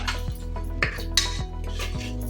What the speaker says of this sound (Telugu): జీరా పౌడర్ కొంచెం వేసి కలపాలి